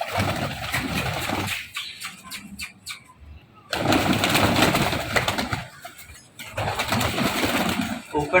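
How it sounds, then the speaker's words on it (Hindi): Pigeons coo at a rooftop pigeon loft in short bursts broken by pauses, mixed with a steady engine-like drone nearby, and someone talks briefly. "ऊपर से भी एक कबूतर आ गया।"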